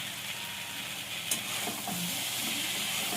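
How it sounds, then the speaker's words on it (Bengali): A fried fish head goes into a pan of sizzling vegetables, a continuous moderate frying hiss with one brief clatter of it landing before the sizzle carries on. "এবার মাছের মাথা ভাজাটা দিয়ে দেবো"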